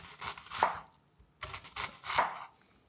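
A knife slices through an onion on a cutting board in two short bursts, each a close, crisp run of cutting strokes ending in a firm knock on the board, with no voices.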